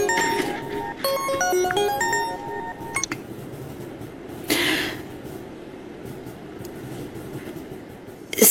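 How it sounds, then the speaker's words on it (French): A mobile phone ringtone plays a clear melodic pattern of bright repeated tones for about three seconds, then stops; a brief clink and low room noise follow. "j'ai pas entendu mon téléphone"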